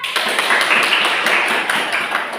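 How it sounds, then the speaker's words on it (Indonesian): A classroom of students claps for a classmate, producing steady, dense applause that stays even from start to finish without any voices. "Kasih tepuk tangan untuk kawannya."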